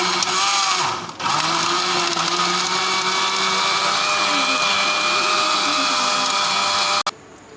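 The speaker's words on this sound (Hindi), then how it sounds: "तो इसको अब अच्छे से हम ब्लेंडर में डाल के ब्लेंड करते हैं" An electric kitchen blender whirs almonds with milk in one continuous loud, high-pitched grind for about seven seconds, then cuts off abruptly.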